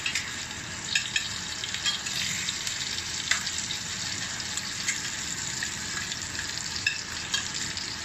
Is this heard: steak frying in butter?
yes